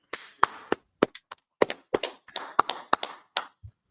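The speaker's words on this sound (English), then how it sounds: "All right, clap it up." A single person claps sharply and unevenly on a livestream, about a dozen loud, close hand claps in irregular bursts, with no talking.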